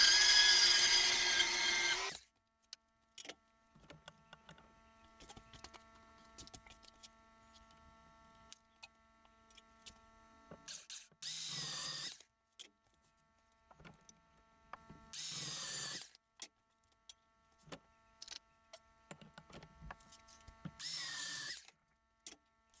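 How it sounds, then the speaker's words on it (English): Power tool cutting 1-inch scrap steel tubing to length for sawhorse hinges, heard as three separate loud bursts of whining, grinding noise, each lasting about a second, with quiet workshop pauses and faint hum in between. "Here I've found some 1-inch scrap tubing that I'm going to cut to length."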